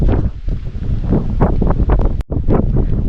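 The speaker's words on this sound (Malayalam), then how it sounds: "അത്ര ഫോഴ്സിലാണ് ഈ കാറ്റടിക്കുന്നത്" Strong wind buffets the microphone in a continuous, loud roar with gusting surges and one brief drop near the end, on the Pullumedu grassland trail to Sabarimala.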